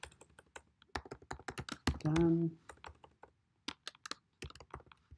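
Quick, irregular keystrokes on a computer keyboard clatter close by in bursts, with a brief spoken word cutting in midway.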